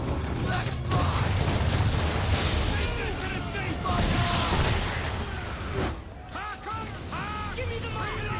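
Ship cannons fire in the naval battle of the Assassin's Creed 3 video game, booming blasts rolling over wind, creaking and a busy mix of game sounds, with someone talking over much of it.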